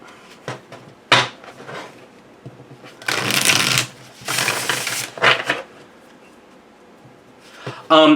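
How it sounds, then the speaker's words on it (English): Tarot cards are shuffled overhand by hand in repeated riffling bursts, a dry papery flutter close by, with brief pauses between passes. "It shuffles great. Overhand shuffles really nicely."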